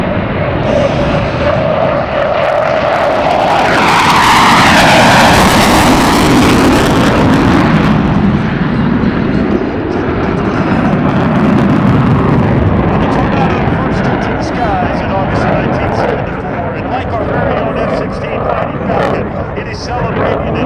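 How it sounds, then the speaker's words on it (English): A German Air Force Panavia Tornado jet departs at an air show, a loud, sustained engine roar swelling and then slowly fading under a commentator's voice. "This aircraft is here courtesy of the German Air Force, the Luftwaffe"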